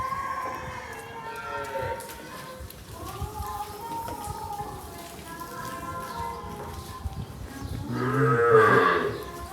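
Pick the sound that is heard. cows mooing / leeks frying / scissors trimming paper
cows mooing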